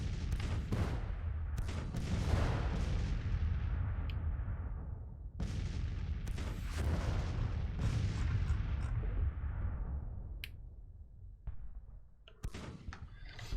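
Civil War cannons fire in Grand Tactician, a series of heavy booms, some near and some distant, each trailing off in a long rolling decay, several overlapping volleys.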